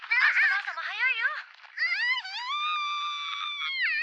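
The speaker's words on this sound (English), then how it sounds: "I felt that scream." A high, shrill scream from a Re:Zero anime episode rises and wavers over about four seconds, with a strained vocal quality and a sustained tonal wail at the end.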